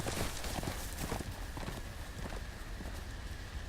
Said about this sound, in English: Whoa, horse! No, horse,